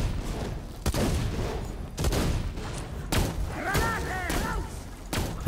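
Grenades exploding in the video game Borderlands 2, heavy booming bursts in a rapid series spread over several seconds amid ongoing combat noise, with a voice also audible.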